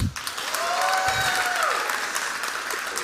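An audience in Sioux Falls delivers a full, steady round of applause, dense clapping throughout with a faint whistle-like tone and some cheering mixed in.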